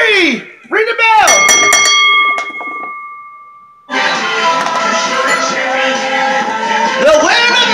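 A wrestling ring bell at a live pro wrestling event rings out right after a pinfall, bright tonal strikes ringing for a moment, followed by loud arena crowd noise and an announcer's voice.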